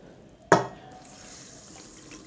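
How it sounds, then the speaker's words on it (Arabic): Half a cup of water poured onto sugar in a baking tray for caramel, a single short close splash followed by a soft lingering trickle and hiss. "نص كوباية سكر، هننزل عليها بنص كوباية مية"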